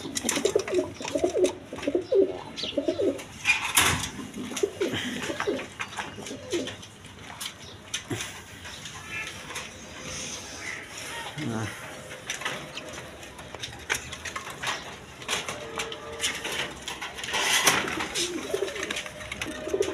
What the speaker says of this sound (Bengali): এখানে একটা রেশার কবুতর আছে, দেখেন কোয়ালিটি সম্পন্ন কবুতর